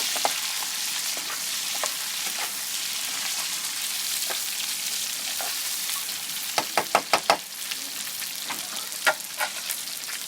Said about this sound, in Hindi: और यहाँ पर हम चिकन को थोड़ा सा भून लेंगे।